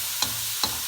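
Beef browning in a pan gives a steady, close sizzle with two brief stirring scrapes.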